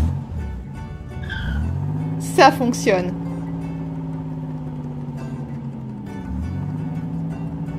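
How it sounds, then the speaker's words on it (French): Animated cartoon car starting up after an oil top-up, its engine turning over with a brief loud rev burst, then a steady running hum beneath a voice talking. "Tu peux démarrer la voiture."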